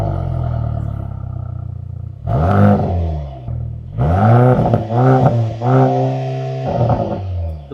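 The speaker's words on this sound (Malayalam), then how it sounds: "എന്നാൽ ഇത് സ്പോർട്ട് പ്ലസ് മോഡലിലെ എക്സോസ്റ്റ് നോട്ടാണ്." A Mercedes-AMG GLC 43 Coupé in Sport Plus mode idles with a low burble, then its exhaust roars through several sharp, loud revs that climb and fall back, one short blip followed by a cluster of quick throttle stabs, with no talking.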